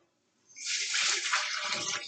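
Warm water poured out of a modern teapot, a steady broad splashing stream that starts after a short silence and runs on close and fairly loud.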